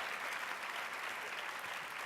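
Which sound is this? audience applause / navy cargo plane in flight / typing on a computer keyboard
audience applause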